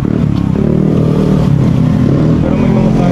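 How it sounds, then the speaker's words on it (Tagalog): Motorcycle engines drone and rev steadily as they pass close by along a roadside, loud and continuous. "medyo maingay yung mga dumadaan na motor"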